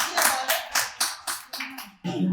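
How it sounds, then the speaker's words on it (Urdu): Applause from an audience at a mushaira poetry gathering in a milad house in Johar Town, several bursts of clapping that swell and fade, with a voice speaking briefly at the end. "آپ سب کی بھرپور تالیوں میں"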